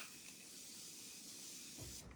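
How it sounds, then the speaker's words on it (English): Younique makeup setting spray misted onto a face in one long, steady hiss that lasts about two seconds and then stops abruptly. "I am going to spray my face"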